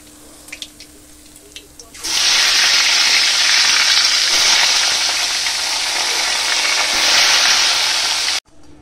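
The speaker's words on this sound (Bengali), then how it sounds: "একে একে আমি সব মাছগুলোই ভেজে নেব।" Tengra fish frying in hot oil, one piece after another, a loud continuous sizzle bursting in after a quieter start with faint clinks and running steadily until it cuts off abruptly near the end.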